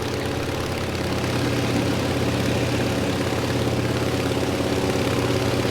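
Aircraft engine idling in Microsoft Flight Simulator 2020, a steady low propeller-engine drone with even tonal hum, held constant throughout with no talking.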